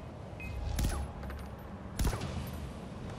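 Gunfire in Far Cry 4, from a weapon that fires rapid three-shot bursts, heard as two sharp reports about a second apart over a steady noisy game background.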